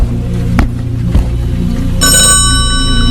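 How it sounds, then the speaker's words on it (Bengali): Telephone ringing with a bright sustained electronic bell tone that starts partway through and continues to the end, over a loud low rumble of background noise. "তার মধ্যেই টেলিফোনটা বেজে উঠেছে"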